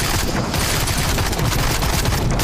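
Rapid gunfire in the horror shooter game Sker Ritual, a dense, loud barrage of overlapping shots and booms filling the whole moment without pause.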